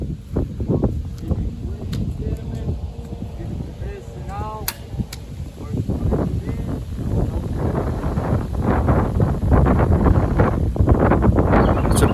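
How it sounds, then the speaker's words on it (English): Wind buffets an outdoor microphone on a gusty day at a backyard wrestling championship match, a steady low roar with rustling bursts that thickens toward the end, with voices faintly mixed in. "Pretty windy day there"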